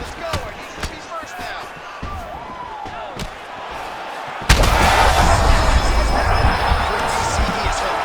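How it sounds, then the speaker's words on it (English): A heavy uppercut lands in the UFC 5 fighting game with a sharp impact, then a loud, sustained crowd roar swells beneath commentators talking. "What a beautiful uppercut. It landed beautiful."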